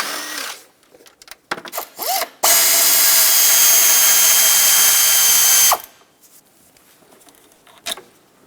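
A power tool whirs steadily for about three seconds as 10mm bolts come out near the throttle body of a 2009-2014 Ford F-150 5.4L, with scattered clicks and handling noises before and after.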